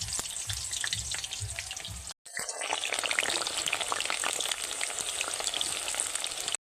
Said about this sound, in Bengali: তেলের মধ্যে দিয়ে দিলাম আলু।